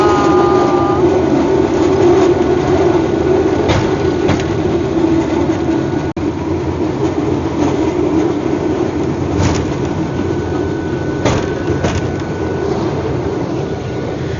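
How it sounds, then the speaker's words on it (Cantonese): A train rumbles past on the old mountain line railway near a tunnel and bridge, a steady loud mechanical roar with faint squeals and clanks throughout, no talking. "上一班車嘅回程啦。"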